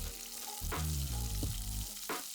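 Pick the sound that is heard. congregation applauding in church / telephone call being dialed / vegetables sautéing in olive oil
vegetables sautéing in olive oil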